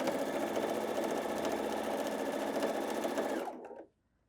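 A sewing machine runs steadily, stitching a 5/8-inch seam all around a garment at a 2.5 stitch length, a continuous close mechanical whir that stops abruptly near the end.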